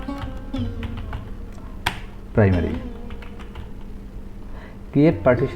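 Computer keyboard keys tapped one after another while entering Diskpart commands, sharp clicks spaced through the clip under a man's speech in Bengali.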